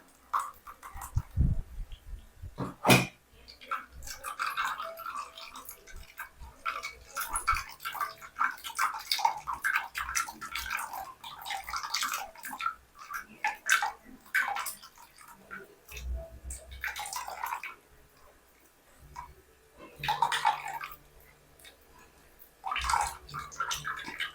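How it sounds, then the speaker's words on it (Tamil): Ground herbal hair dye paste strained with water, giving irregular wet squelching, dripping and splashing close by, with a sharp knock early on and a louder splash near the end. "இதை நம்ம வந்து வடிகட்டிக்கலாம்"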